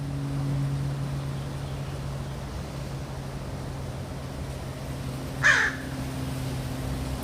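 A single short crow caw rings out once, fairly near, against a quiet outdoor background with a steady low hum.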